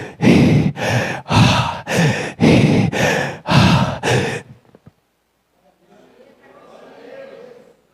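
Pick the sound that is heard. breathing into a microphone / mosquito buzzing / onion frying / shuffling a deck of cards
breathing into a microphone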